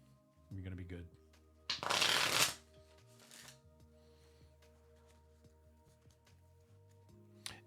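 Tarot cards are riffled and shuffled in a short, crisp burst near the microphone, followed by softer card handling, while a person talks quietly.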